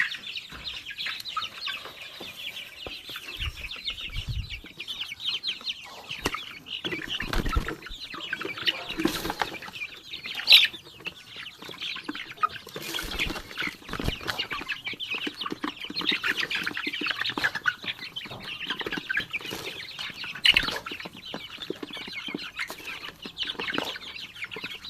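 Chickens in a coop at afternoon feeding time cluck and squawk continuously, with a rooster-like call standing out, busy overlapping flock chatter filling the space at steady moderate loudness with occasional louder bursts.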